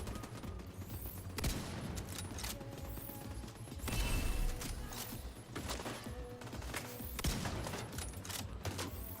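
Gunfire in the video game The Division 2 is aimed at the player: rapid bursts of shots and clattering mechanical reports keep coming in waves, with a heavier volley in the middle.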